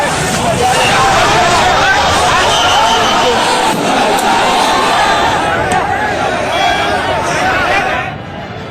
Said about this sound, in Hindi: शाम होते होते प्रदर्शनकारियों का हुजूम उमड़ पड़ा